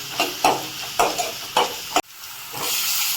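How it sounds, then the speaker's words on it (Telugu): Onions fry in a pan as a spatula stirs and scrapes in four or five quick regular strokes, each over a steady sizzle, followed by a continuous louder hiss of frying. "ఆనియన్ కాస్త ఫ్రై అయ్యే బాగా ఫ్రై చేసుకోవాలి సో ఫుల్గా కలర్ వచ్చేదాకా ఇలా వేయించుకోవాలి"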